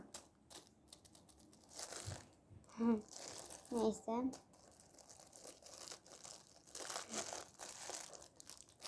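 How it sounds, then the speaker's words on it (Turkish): A plastic bag being opened and crinkled by hand, producing bursts of rustling and crackling between laughter and casual talk nearby. "Evet şimdi şu güzel poşeti açıyoruz."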